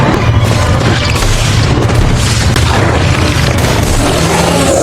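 A plant explodes in a Predator film scene, heard as a loud, sustained booming rumble with crashing, debris-like texture throughout, close and dense, with no talk.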